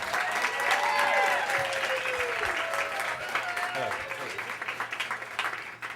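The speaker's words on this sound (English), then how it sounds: "Big round of applause for Martin." An audience at a live storytelling slam event bursts into loud, sustained applause, fading gradually over six seconds with a voice briefly audible over the clapping.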